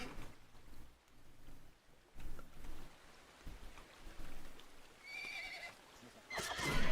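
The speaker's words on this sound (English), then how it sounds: "Maybe we can go after this wild horse" A wild horse neighs in the Dawn of Man video game, faint against a continuous wash of rain-like ambience, with a brighter whinny rising near the end.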